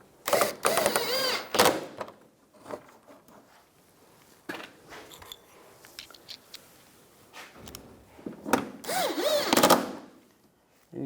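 A powered screwdriver whirs in short bursts, tightening screws on a 2004-2009 Toyota Prius fog light cover, loud and close, with quieter clicks and handling noise between runs.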